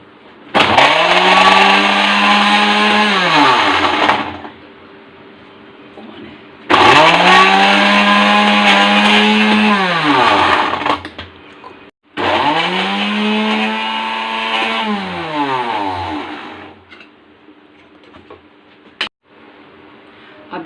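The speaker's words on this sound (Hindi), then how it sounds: "अब पहले हम इसको, इन दोनों को फेंट लेंगे।" An electric beater whirs through ghee in a saucepan for ghevar batter in three loud bursts, each motor rising, holding steady and winding down, with quiet pauses between.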